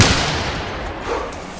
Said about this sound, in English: I need to shoot him with the 50 cap lock, 10 pointer.